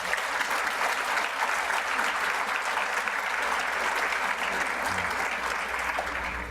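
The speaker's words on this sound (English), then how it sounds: "I'd like to give them a round of applause" Sustained audience applause fills a hall at a county state-of-the-region address, a dense, steady wash of many hands clapping at even loudness throughout with no voices over it.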